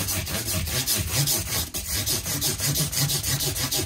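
Rhythmic back-and-forth rasping of sandpaper on a wooden guitar part, close and steady, about two strokes per second with a brief pause midway.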